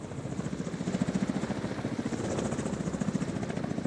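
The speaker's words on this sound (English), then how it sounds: "I think he's coming in a chopper." A helicopter arrives in a video game, with a loud, close, steady rhythmic rotor chop and an engine whine underneath.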